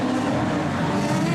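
Production sedan race cars roaring around Kingaroy Speedway, a steady loud engine drone filling the air without a break, as if heard from trackside.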